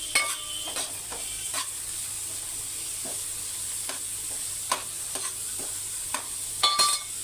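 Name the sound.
stirring and frying food in a pan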